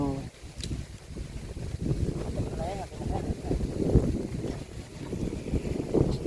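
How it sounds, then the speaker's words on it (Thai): Steady wind gusts roar across the microphone in an open rice field, a continuous rumbling buffet that swells and eases throughout with faint voices underneath. "จะว่ามีแต่ลมกับลม"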